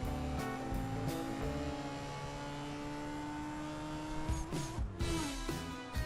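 Game car in CSR2 drag racing, engine held at a steady pitch, then a quick series of downshifts with sharp rev blips near the end, fairly quiet overall.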